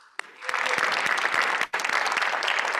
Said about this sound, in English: let's welcome Talia with a nice round of applause, please.